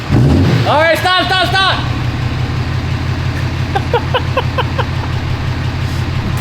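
A Ram Cummins pickup truck engine runs at a steady, close, loud idle with a deep rumble throughout, while voices talk briefly over it near the start and again midway.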